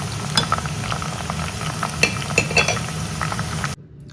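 Potatoes fry in hot oil for a noodle and chicken dish, with a steady crackling sizzle, scattered pops and bubbling, close by, before cutting off abruptly near the end.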